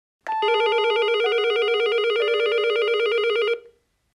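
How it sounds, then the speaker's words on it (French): A door intercom system with a BVS25 central unit sounds its ringing tone, a steady electronic chime stepping down through three pitches, clear and loud, then cutting off cleanly. "Une sonnerie à l'intérieur et à l'extérieur confirme que le bouton de sonnerie est correctement attribué."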